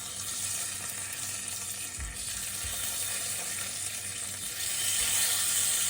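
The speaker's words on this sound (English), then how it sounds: "we add the pork loin chops" Pork loin chops fry in a pan, giving a steady, close broadband sizzle throughout with a few soft low bumps as the pan is handled, growing slightly louder near the end.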